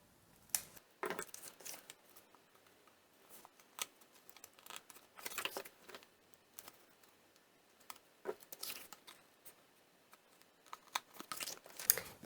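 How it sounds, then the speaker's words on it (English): A paper corner punch clicks and crunches through card corners in a string of sharp, close snips and crinkles spaced irregularly, with quiet handling of paper between them. "So I'm going to punch the corners here."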